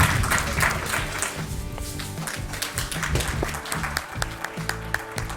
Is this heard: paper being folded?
no